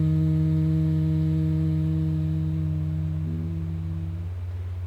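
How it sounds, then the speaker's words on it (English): A single voice chants a long, sustained Om in meditation, a steady low drone with stable harmonics that shifts pitch slightly near the end before fading, heard alone. "when you are chanting the word Om"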